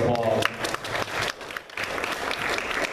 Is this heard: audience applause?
yes